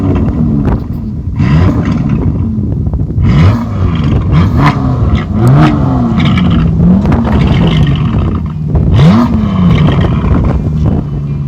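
A 5.2-litre twin-turbo engine in an Aston Martin DB11 is revved repeatedly, with loud, close blips that rise and fall in pitch several times over a steady idle, and no talking over it.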